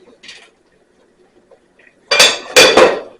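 A metal lid lifts off a cooking pot on a stovetop, heard as a few sharp close clanks and rattles after near silence, preceded by faint brief handling noises.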